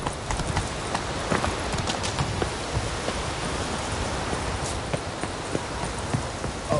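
Hooves of the horse Roach pound at a run in The Witcher 3, a quick, continuous clip-clop over a dense rushing background that stays at an even, fairly loud level throughout.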